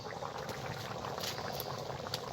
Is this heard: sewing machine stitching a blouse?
no